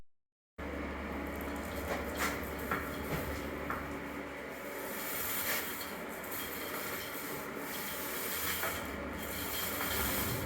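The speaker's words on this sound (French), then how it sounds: "Je vais encore faire un petit ponçage" Sanding a house wall by hand ahead of the primer and finishing coat during a home renovation gives a steady, continuous rubbing and scraping that runs throughout at moderate level, close by, with no talking.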